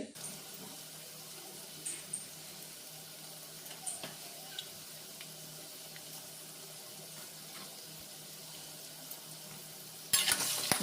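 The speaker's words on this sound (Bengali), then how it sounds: "আলুটা ভাজা হচ্ছে" Potatoes fry steadily in mustard oil with turmeric for a Bengali rohu fish and cauliflower curry, giving a faint, even sizzle with a few soft stirring clicks and a brief louder scrape near the end.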